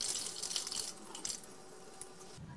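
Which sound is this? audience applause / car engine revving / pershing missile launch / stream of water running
stream of water running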